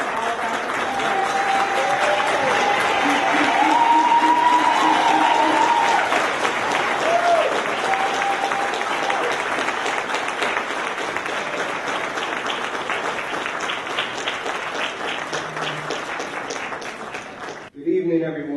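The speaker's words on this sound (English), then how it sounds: "Let's give a round of applause for all of our participants" A large audience at an evening youth program event claps for the participants in a long, sustained ovation, loud and dense at first and gradually thinning, with a voice briefly carrying over the clapping early on.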